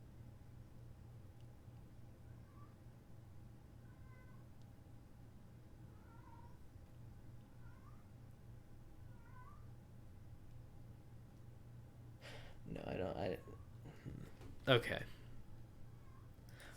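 A domestic cat meows several times, short faint calls repeating at a steady pace over a constant background hum, followed by a few louder bumps and a brief spoken exchange near the end.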